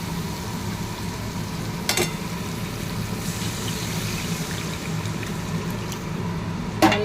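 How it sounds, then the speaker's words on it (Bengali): Water pours into a pan of well-fried masala for fish curry, making a continuous hissing sizzle and liquid rush, broken by two sharp metallic clinks near the start and the end. "জল দিয়ে দেবো।"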